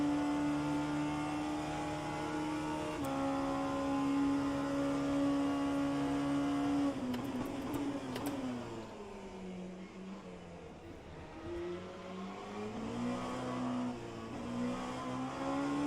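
Race car engines from the rFactor 2 racing game, including a Porsche, drone steadily with sustained revving, then shift down and surge again through a final corner, loud and continuous with no talking.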